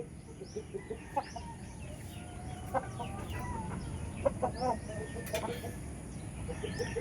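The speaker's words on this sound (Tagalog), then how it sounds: "Yung tinatawag na higanting manok, Indio Gigante." Indio Gigante chickens cluck and call intermittently against a steady outdoor background, with a few sharper squawks scattered throughout.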